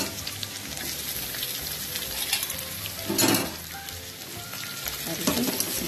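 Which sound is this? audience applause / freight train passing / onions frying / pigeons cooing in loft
onions frying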